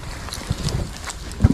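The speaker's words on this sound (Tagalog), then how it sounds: "May eh, mahangin eh" Wind buffets the microphone at an outdoor fishing spot by the water, making a steady low rumble broken by a couple of brief gusty thumps, with no talk.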